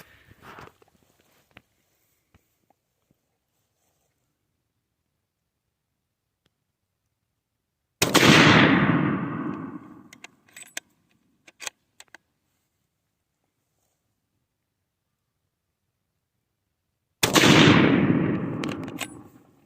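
Two loud shots from a Savage Axis 25-06 bolt-action rifle fired outdoors, spaced about nine seconds apart, each a sharp blast with a long rolling echo, with faint handling clicks between them.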